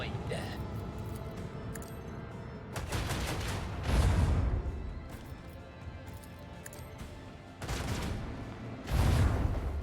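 Torpedoes launched in the space strategy game Rogue Trader, heard as a sustained barrage of booming, crashing blasts that swell in loud waves, with people talking over it.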